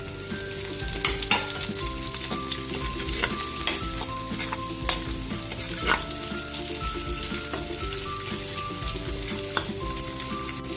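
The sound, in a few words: garlic and onion sautéing in oil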